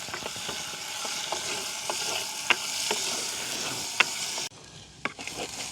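Onions and green chillies sizzle steadily in a hot pan, a continuous close frying hiss with occasional light clicks of stirring, the level dropping slightly near the end, no talking.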